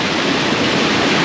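Waterfall on the Koosah and Sahalie Falls trail, a steady, loud broadband roar of falling water that fills the whole moment without a break and with no voices.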